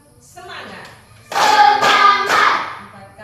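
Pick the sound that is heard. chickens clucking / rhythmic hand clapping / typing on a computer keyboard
rhythmic hand clapping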